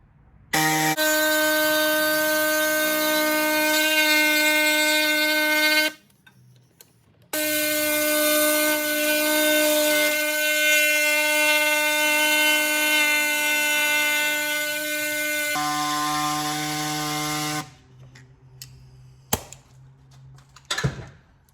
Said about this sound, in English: I've switched over to the jigsaw just to show you that the cut's not going to be as smooth and easy